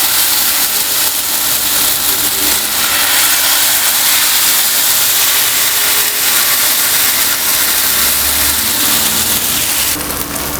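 Wheat dosa batter spreads across a hot pan and sizzles with a loud, steady hiss that runs unbroken from start to finish.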